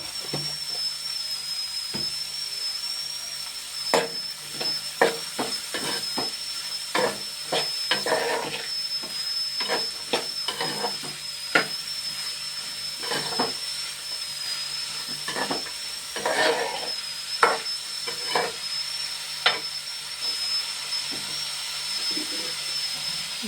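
Chopped onion pieces with a little salt fry in a pan, giving a steady close hiss with a thin whine and scattered sharp crackles and pops throughout.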